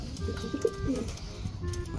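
Low pigeon coos murmur repeatedly at moderate distance, soft and rolling, with faint background noise and no talking.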